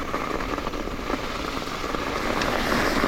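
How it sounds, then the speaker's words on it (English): Mountain bike rolling over hail deposits on an Idaho mountain trail during a storm, a steady dense crackling, crunching rattle like packaging material, continuous and fairly loud throughout with no talking. "the hail deposits are crazy. Sounds like I'm riding over like packaging"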